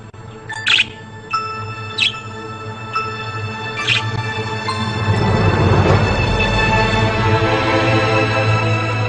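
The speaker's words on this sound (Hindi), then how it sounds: "आओ देखो जरा इनको कैसे चहचहा रहे हैं" Birds chirp and tweet in short, bright bursts near the start, then a denser, steady chatter continues over a low hum, fairly close and moderately loud, with no talk.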